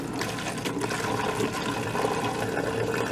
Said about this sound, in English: So let me put some apple cider vinegar in that.